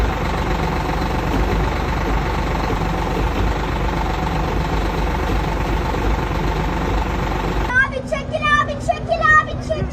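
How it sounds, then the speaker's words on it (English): A Caterpillar 3406E diesel truck engine idles after a cold start on a snowy morning, a steady loud low rumble throughout, cut off near the end by a different scene with voices and sharper noises. "Nothing beats a Cold Cat 3406E waking up the whole neighborhood on a snowy morning"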